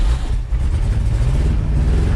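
A 1968 Ford F100 pickup engine is cranked over, producing a loud, dense, continuous mechanical roar up close, with no talking.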